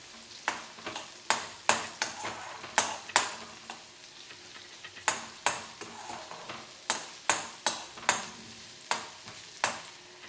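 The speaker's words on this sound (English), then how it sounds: "Now add our onion. And saute it for 2 minutes." Chopped onion sautés in a hot pan with a steady sizzle, punctuated every second or so by sharp scrapes and knocks of a spoon stirring against the metal.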